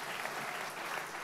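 A short burst of steady audience applause at a conference session with Al Gore, dense and even throughout with no speech over it.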